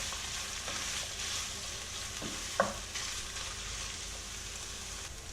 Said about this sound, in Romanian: adăugăm ceapa. O lăsăm până se înmoaie, cam 5 minute, amestecând din când în când